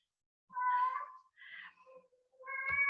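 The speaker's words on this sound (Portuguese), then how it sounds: "Nossa, meu gato tá louco aqui" A domestic cat meows three times close by, two drawn-out calls and a rising final one with short gaps between them, clear against a quiet indoor background.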